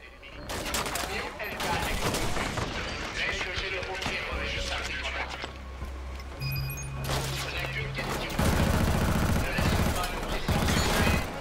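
Bursts of rapid gunfire and explosions from the shooter game Killzone: Shadow Fall, dense and continuous, with someone talking over the action throughout.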